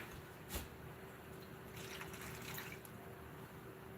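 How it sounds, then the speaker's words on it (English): Water poured into a cooking pot in a home kitchen gives a quiet, steady trickle and splash lasting several seconds, with a brief louder clunk near the start. "add a little more water"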